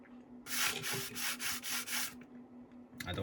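Sandpaper rubs across a wooden panel of a CIE Bredin railway coach under restoration in steady back-and-forth strokes, about six in a row, then a short pause before another stroke begins, close and alone.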